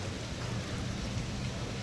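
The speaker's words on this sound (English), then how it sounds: "Silver Dollar City in the rain." Heavy rain pours steadily over the Silver Dollar City amusement park, a dense, loud, unbroken hiss of water with a low rumbling undertone and no voices.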